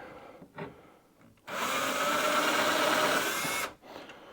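A power drill whirs steadily for about two seconds, close and loud, pre-drilling a screw hole through a baby gate strike plate on stairs, between quiet moments with a couple of small knocks.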